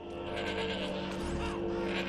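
A disembodied goat head bleats in the video game Shadows of the Damned, a sustained, wavering cry layered over a dense, continuous game soundtrack.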